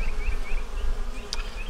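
A dense, steady drone of honeybees buzzes around capped queen cells on a hive frame, close and continuous, with a single brighter insect whine passing briefly near the end.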